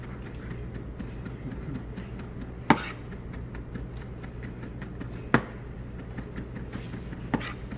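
A knife chops on a cutting board in a kitchen where pork jowl with soybean-paste sauce is being prepared, giving rapid, even taps with a few heavier knocks every couple of seconds and no talking.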